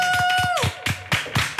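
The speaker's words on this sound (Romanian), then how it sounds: "Stai așa, că îi pun pe ăștia, să fie aplauze." Canned applause effect played in a radio studio: a short burst of clapping-like hits, close and moderately loud, with a steady tone fading out underneath, and no voices.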